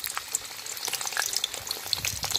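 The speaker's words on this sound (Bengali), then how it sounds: "তেলটা গরম হয়ে গেছে, আলুগুলো দিয়ে দেবো, দিয়ে লাল লাল করে ভেজে নেব।" Potatoes frying in hot mustard oil for a prawn and jackfruit curry: a dense, continuous crackling sizzle with sharp popping spits, close and fairly quiet for about two and a half seconds.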